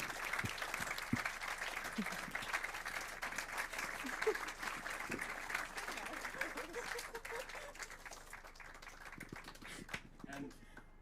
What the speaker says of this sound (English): Can I get a big applause?